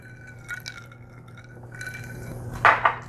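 Ingredients for a pork and leek soup are stirred together in a pot: soft, low scraping and liquid movement, with a couple of brighter clinks of a utensil against the pot near the end.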